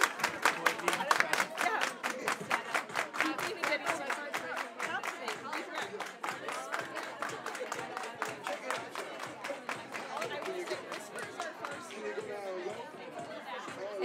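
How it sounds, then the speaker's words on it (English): A crowd at a Denver teachers' union bargaining meeting claps in a steady, rhythmic unison beat that carries on for the whole stretch, with chatter and voices mixed in underneath. "Everybody clap your hands."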